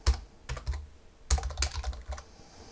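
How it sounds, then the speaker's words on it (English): Computer keyboard typing in short quick clusters of close clacking keystrokes, two bursts separated by a brief pause, with no talking. "I can type some notes in"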